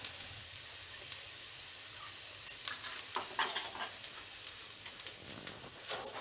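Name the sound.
stirring fried rice in a pan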